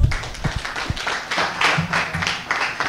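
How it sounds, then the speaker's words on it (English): A conference audience applauding at the launch of a green label reward application, a dense wash of clapping with a few sharper claps standing out, sustained and moderately loud for the whole stretch. "Give yourselves a round of applause."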